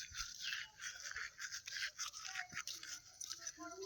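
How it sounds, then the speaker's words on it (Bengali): A toothbrush scrubs teeth in a steady, faint scratchy rhythm of quick back-and-forth strokes, close to the mouth, with no speech over it. "ব্রাশ করা হয়ে আসছে।"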